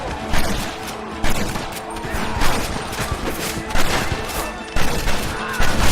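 Dense gunfire from a Red Dead Redemption battle, with rapid rifle and pistol shots crackling over a continuous din and heavier bursts punching through roughly every second, while shouted voices sound faintly in the mix.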